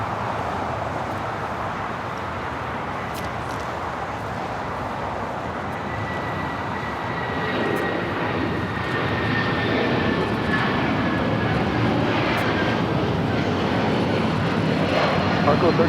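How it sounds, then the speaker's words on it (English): A United Airlines Boeing 757-300 taking off from runway 25 right at LAX, a steady broadband jet roar that gradually grows louder, heard from a distance with no talk over it. "This is United Airlines 2069 taking off to Houston Intercontinental on a 757-300."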